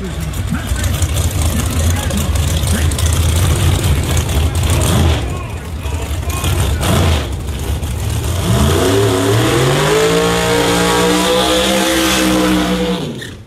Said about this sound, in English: Chevy Floyd racing in a beautiful Tommy Mooney built Corvette supercharged entry